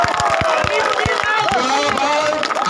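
A crowd claps and cheers at an outdoor political gathering for a village panchayat president candidate in Lakhimpur district, Assam. Sharp, uneven hand claps ring out over steady crowd babble and chatter.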